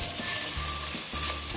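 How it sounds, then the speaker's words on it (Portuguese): Calabresa sausage and bacon fry in a pan with a steady, close sizzle that fills the clip, with faint crackles, while a low background hum runs underneath. "Vou agora fritar aqui"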